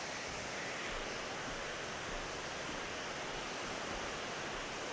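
A North Georgia waterfall roars in a constant, dense wash of broadband rushing water, steady and unbroken throughout, heard from a viewing platform with no voices.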